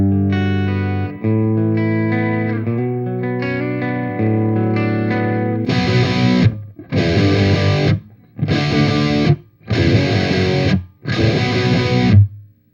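A Mesa Boogie Electra Dyne guitar amp in high mode with the reverb defeated plays sustained, overdriven guitar chords, then switches to five chunky, distorted palm-muted bursts separated by short gaps.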